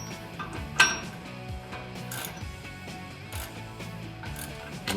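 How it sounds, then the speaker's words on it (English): A socket wrench ratchets steadily while snugging a bolt on a 2009-2018 RAM 1500 body lift kit, giving a close run of clicking pawl strokes with a few metallic clanks and no speech. "Now we're just gonna take our socket, snug it up all the way"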